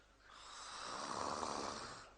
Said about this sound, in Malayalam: ഈ കണ്ട നേരം മുഴുവൻ കൂർക്കം വലിച്ചിരുന്നത് നീ തന്നെയല്ലേ